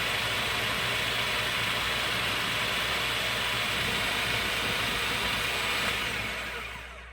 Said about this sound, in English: I'm going to work in batches so that I can get it all in here and pureed down